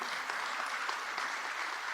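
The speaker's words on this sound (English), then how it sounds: "let's give them a very big round of applause" Fairly faint, even applause from an awards-ceremony audience, a soft continuous patter of many hands heard from some distance.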